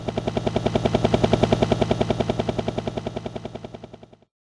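A helicopter's rotor chops in a steady rapid rhythm, loud and close, swelling slightly then fading out toward the end.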